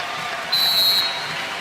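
A volleyball crowd in Nebraska's arena at Big Ten championship point gives off a steady roar, with a shrill sustained tone cutting through for about half a second midway.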